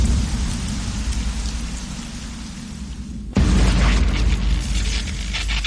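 Heavy rain pours steadily before a sudden loud thunderclap cuts in, followed by a rumbling roll of thunder over the continuing downpour.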